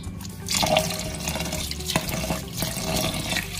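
Plain water poured into a pot of sticky rice already holding coconut milk, a steady splashing pour with faint dripping, close and alone.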